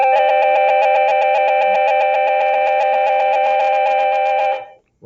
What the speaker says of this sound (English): that's a very long and annoying bell